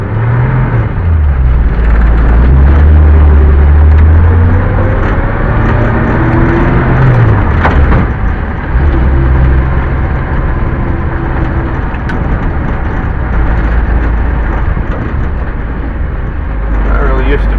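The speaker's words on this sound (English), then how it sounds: "Rev her up probably a little too much when I go to start out." A 1962 Ford Falcon on a cold start revs loudly, its engine rising and falling in steady swells under near-constant talk from the driver.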